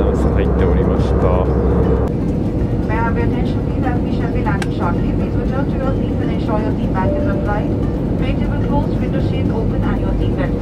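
Steady, loud broadband roar fills an airliner cabin as the plane descends toward Delhi on a Chennai-to-Delhi flight, with voices talking over the constant drone.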